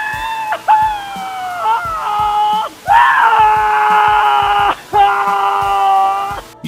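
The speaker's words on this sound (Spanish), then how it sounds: "han escuchado gritos de terror de una persona durante 16 segundos" A person screams in terror, long piercing cries broken by short gasps, loud and close.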